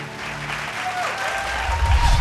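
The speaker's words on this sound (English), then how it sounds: "A round of applause for Larson Muri, ladies and gentlemen." Audience applause following a singing performance at a televised vocal competition, a steady wash of clapping building slightly louder toward the end.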